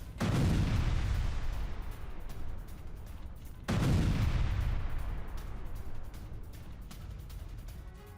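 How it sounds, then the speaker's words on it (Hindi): Missile and drone bombardment on Kyiv: two heavy, powerful blasts about three and a half seconds apart, each followed by a long rumbling roll that fades slowly, with no voices. "तो देखिए, धुआंधार बमबारी, कीव में ब्लैकआउट।"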